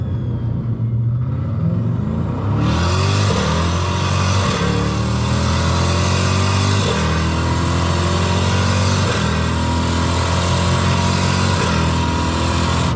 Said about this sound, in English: You can hear the exhaust crackling like all the way down the pipes here